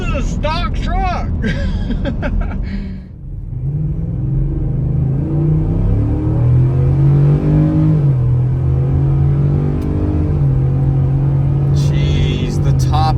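A stock pickup with a Coyote engine and 10-speed pulls hard under heavy throttle, its loud engine droning and climbing through a gear change, with talk at the start and a short voice near the end.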